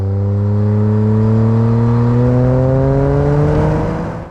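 A Toyota GR Yaris's aftermarket exhaust with 4-inch tips roars loudly and steadily, its pitch climbing smoothly as the engine revs up, then fading slightly at the end.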